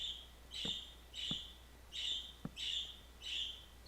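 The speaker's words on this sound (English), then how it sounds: "the birds are going nuts" Several birds chirp in bright repeated bursts, about five calls in a steady rhythm with brief gaps, heard alone at moderate distance with a few soft taps beneath.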